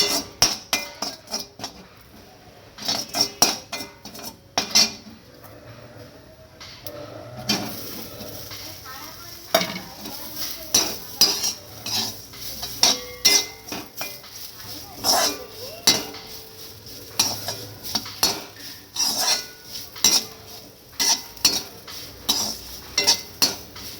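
Poppy seeds fried in a little oil in a kadai are stirred together with fried potatoes, giving repeated metallic scrapes and clinks of a utensil against the pan in an irregular rhythm, close and fairly loud, with some voice in the background.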